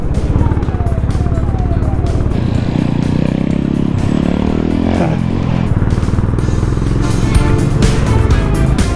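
A Honda CB350 motorcycle riding steadily with a loud, continuous engine note that rises and settles as gears shift, close and dominant throughout.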